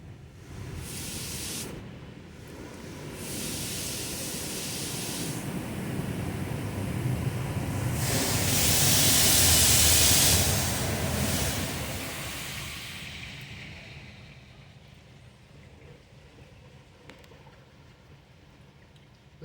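Rinse cycle at a truck wash in Apple Valley, California: a broad, steady rush of spraying water swells to a loud peak midway, then gradually fades to a quieter hiss.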